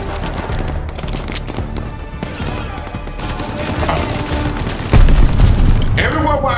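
Call of Duty: Vanguard gameplay fills the scene with booming gunfire and bursts of rapid shots. The battle noise is loud and dense, with a heavier blast near the end, and a voice can be heard over it.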